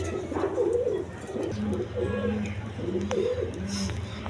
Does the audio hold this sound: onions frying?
no